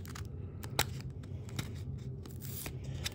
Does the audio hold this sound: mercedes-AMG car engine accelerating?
no